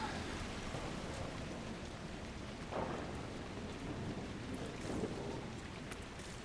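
Steady rain falls in the video game Dragon Age Inquisition, a constant soft hiss across the whole span with a couple of faint low rumbles that could be distant thunder.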